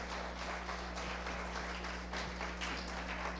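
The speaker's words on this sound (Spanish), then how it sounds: "Dale un fuerte aplauso a Dios." A church congregation applauding, steady dense clapping from many hands throughout, over a constant low electrical hum and with no speech on top.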